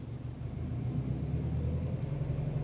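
A 2007 Subaru STI with a manual gearbox revs gently under added gas while reversing up a slight incline, a steady low engine rumble heard from inside the car, with no talking.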